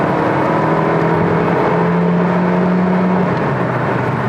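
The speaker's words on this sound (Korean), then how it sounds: "변속기 소리에서도 가늠하실 수 있겠지만 힘을 최대한 끌어내는 상황에서조차도 보세요" Hyundai Kona Hybrid engine and transmission straining under full acceleration, a steady droning hum with a sustained tone that holds and then shifts slightly, loud and close inside the cabin with no talking.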